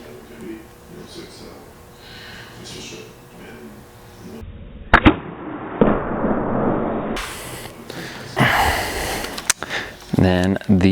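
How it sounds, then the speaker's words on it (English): A Hoyt Axius Alpha compound bow shooting an arrow outdoors, a sharp loud release thump with a brief twang and rattle, followed by more impacts and noise, with speech earlier in the clip. "Second shot with the Axius Alpha."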